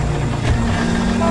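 A car engine in the video game LA Noire hums steadily and close, a loud continuous drone with a low tonal note rising partway through.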